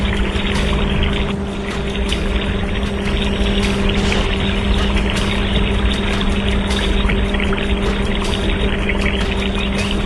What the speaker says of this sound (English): That concrete is the backbone of the entire structure. It has to be poured perfectly to support the weight.